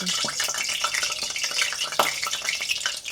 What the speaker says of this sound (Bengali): আবার বাকি মাছগুলো আমি ভেজে নেব